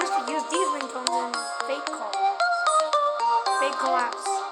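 Samsung Galaxy A03 phone ringtone: a bright, tinkling electronic melody of quick stepped notes, loud and continuous throughout, with no talking over it.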